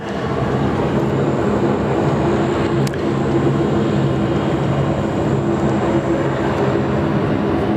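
An airliner in Yam Dreaming livery on final approach over the bay at Sydney Airport, runway 34 left, gives a steady, loud, broadband roar that holds evenly throughout with no voices.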